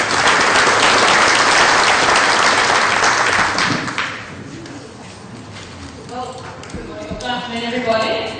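Audience applause for a speaker at a 2014 community forum on multiculturalism, a loud, dense burst of clapping for about four seconds that then drops away as scattered claps and murmuring voices continue.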